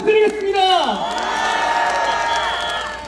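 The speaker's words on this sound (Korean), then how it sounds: "여러분 큰 박수 부탁드리겠습니다." A political rally crowd erupts in loud cheering and shouting, opening with a sharp burst and then holding a sustained roar of voices with applause mixed in.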